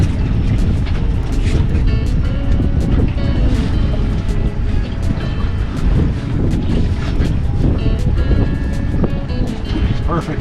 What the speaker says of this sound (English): That wind is just ripping.